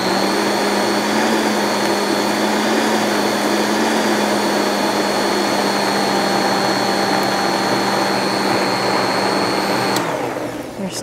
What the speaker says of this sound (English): I'm gonna give it a blend and then see how thick it is.